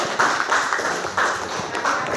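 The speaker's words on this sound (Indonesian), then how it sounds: "Ya, tepuk tangannya." Audience applause in an Indonesian classroom or training session, a short patter of claps with uneven bursts, fairly near, with no talk over it.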